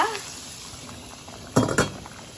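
Mung beans (balatong) bubble in a pot on the stove as a low, steady simmer, with two brief clinks of a utensil against the pot near the end.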